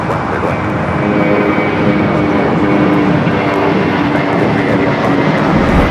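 Heavy Boeing 777 jet departing runway 25 left at LAX, a loud continuous engine roar that holds steady throughout with no talking.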